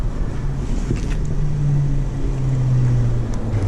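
A 2019 BMW R nineT Urban G/S motorcycle on the move, its low engine drone steady and loud beneath heavy wind buffeting across the microphone.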